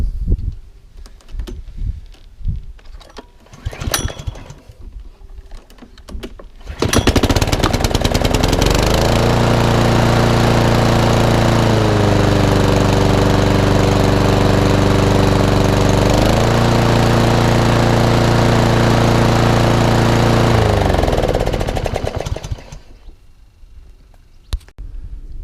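A Mountfield SP536ES lawn mower engine is pulled over a few times, then catches and runs loudly and steadily for about fifteen seconds, its pitch dipping briefly midway before it cuts out, with faint clatter before and after.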